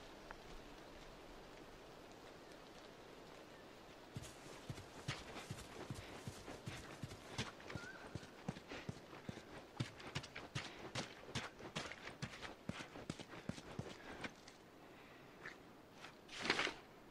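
A horse's hooves clip-clop in a steady, quick rhythm in the video game The Last of Us, starting after a few quiet seconds and continuing at moderate volume before a louder burst near the end.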